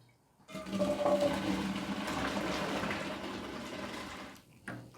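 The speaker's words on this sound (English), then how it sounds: "I'm just going to put them immediately in the ice water." Blanched green beans plunged into a bowl of ice water in a kitchen, giving a steady splashing, gurgling wash of water for several seconds that stops abruptly, with a faint clatter afterward.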